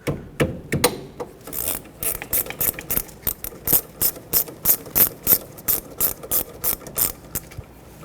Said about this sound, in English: Take an 11mm wrench or socket and let's remove the banjo bolt off of the caliper